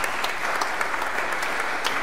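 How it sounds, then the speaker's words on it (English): A church congregation claps to welcome a new pastor, a loud, continuous patter of many hands filling the whole moment. "Yeah, we can clap."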